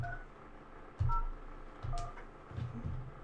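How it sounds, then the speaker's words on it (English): An office desk telephone dials an extension, giving a few short tone beeps spaced about a second apart, fairly clear over a faint room hum. "when I pick up that phone or I make a call"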